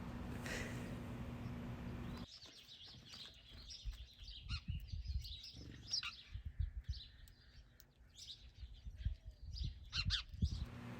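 Small sparrows chirping at a backyard bird feeder, faint scattered tweets over quiet outdoor background noise after a brief burst of louder wind-like hiss at the start.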